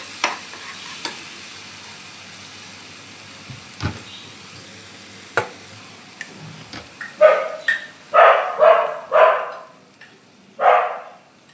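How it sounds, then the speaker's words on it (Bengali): Tangra fish stirred in a pan with Kashmiri chilli and turmeric: scattered scraping taps and soft clacks over a faint sizzle, followed by several loud, close dog barks in quick succession. "কাশ্মীরি মির্চ, তারপরে দিলাম হলদি, এটা আগে নেড়ে নিই ভালো করে।"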